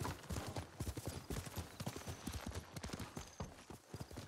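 A horse in Ghost of Tsushima gallops close by, its hooves striking in a fast, driving rhythm of sharp thuds throughout, with a faint whinny in the mix and no talk.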